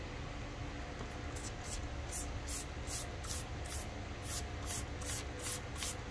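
Quick, sharp spray bursts from a foaming trigger bottle of tire cleaner onto rubber, about a dozen pumps in an uneven rhythm, close and fairly quiet over a low background hum.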